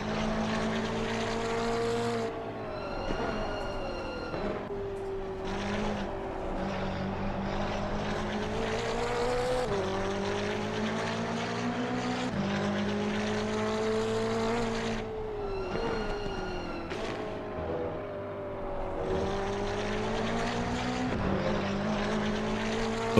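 A file of race cars in Assetto Corsa Competizione during a multiclass endurance race at Oulton Park drones past with layered engine notes rising and falling through gear changes, loud and continuous with no talk.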